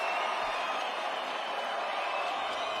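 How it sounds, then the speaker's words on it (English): A large boxing arena crowd cheers and applauds in a continuous, loud roar of mixed voices and clapping that holds steady throughout, with no distinct speech over it. "Vasily, you hear the crowd, the respect they have for the effort"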